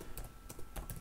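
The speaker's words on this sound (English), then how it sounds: "So we can type" Quick keystrokes on a computer keyboard, about five soft clicks in an irregular burst, faint and close, with no talk.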